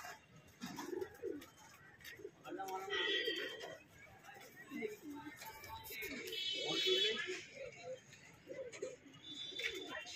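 Soft pigeon coos repeat in a low, throaty rhythm amid a busy background, with people talking over them.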